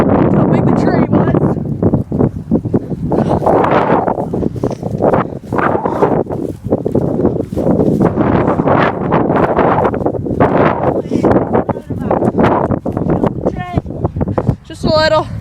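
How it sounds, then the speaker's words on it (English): Strong wind roars against the microphone outdoors on a very windy day in Montana, a loud continuous rumble with gusty buffeting throughout, while someone talks over it. "It's really windy today in Montana"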